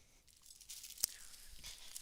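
Fabric bags stiffened with sizing crinkle faintly and close up, a few soft rustling and crackling bursts with one sharp snap in the middle.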